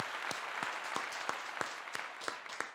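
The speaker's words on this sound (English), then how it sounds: "Round of applause for Offset." Applause from a live show audience welcoming a guest, a steady wash of clapping with a few sharper claps standing out, moderately distant and fairly quiet, with no speech over it.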